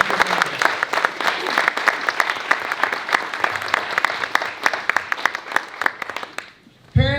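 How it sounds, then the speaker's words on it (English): An audience at a Breakfast of Champions event applauds its students, a full, lively round of many hands with sharp individual claps standing out, which thins and stops near the end before a brief noise. "please join me in another round of applause for all of our students"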